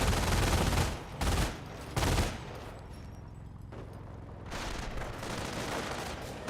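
Bursts of enemy gunfire in a Company of Heroes battle, several loud rapid volleys cut off by short gaps, then a quieter stretch of distant firing and rumble.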